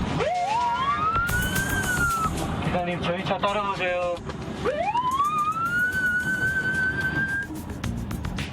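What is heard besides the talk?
police car siren during truck enforcement stop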